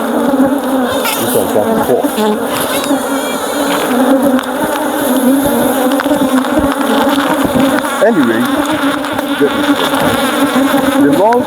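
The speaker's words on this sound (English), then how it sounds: "the hive is active. It's an active colony." An active honeybee colony in a hive in Nigeria gives off a loud, dense, continuous buzzing hum that stays close and steady throughout, with no talk.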